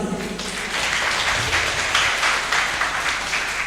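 Audience applause for Professor Hidefumi Yoshi at a university visiting-professor lecture on food emulsion nanotechnology, a steady wash of clapping from a seated crowd held at moderate level for a few seconds.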